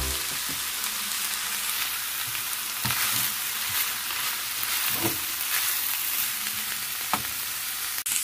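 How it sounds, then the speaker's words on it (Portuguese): Codfish and potatoes sizzle in olive oil in a pan as they are stirred, giving a steady close frying hiss broken by a few soft scraping knocks. "Acrescentei as batatas aqui junto com o bacalhau, vou dar mais uma regada com azeite, vou misturar bem"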